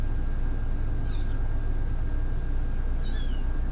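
Two short, high meows from a cat, a couple of seconds apart, faint over a steady low background hum.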